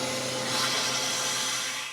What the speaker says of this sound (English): I just released the vacuum pressure from inside of here so that I can open up this door.